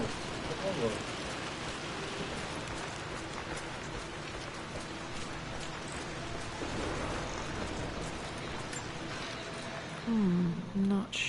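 Steady rain pattering indoors inside a house in the Tomb Raider video game, a continuous broadband hiss of drops running throughout the scene, with brief game voices rising near the end.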